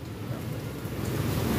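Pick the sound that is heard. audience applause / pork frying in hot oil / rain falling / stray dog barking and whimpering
rain falling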